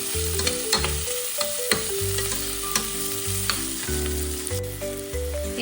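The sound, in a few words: ginger and garlic sautéing with onions for prawn curry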